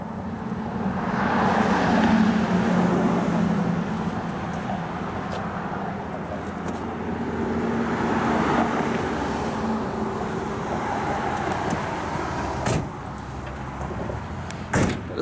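A 1965 Chevrolet Chevelle Malibu SS with headers, dual exhaust and turbo mufflers runs with a steady, moderately loud low rumble, and a few clicks and knocks sound near the end.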